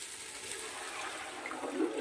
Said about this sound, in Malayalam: ഇനി നമുക്ക് വെള്ളം ഒഴിക്കാം.